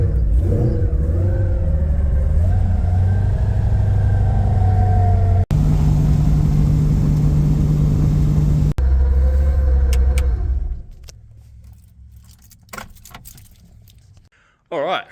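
An XG Falcon ute cruises along the road with a steady engine hum and road rumble inside the cab, a couple of sharp clicks, then the drone fades to near quiet at the end.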